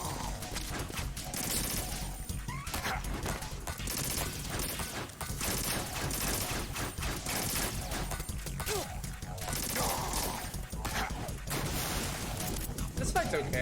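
Gunfire in the video game Metal Gear Solid 2 comes as dense, continuous bursts of shots and crashes over game sound, fairly loud and unbroken throughout.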